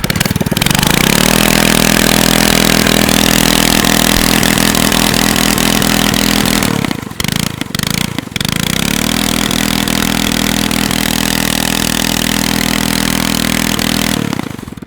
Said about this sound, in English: y'all probably know how loud a 212 is without a muffler